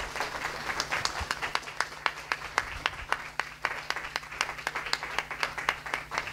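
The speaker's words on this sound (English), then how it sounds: "Can we get a round of applause for this family, please" A church congregation at a Sunday service applauds a family at little Lola's dedication, steady close clapping with distinct individual claps running throughout at moderate volume.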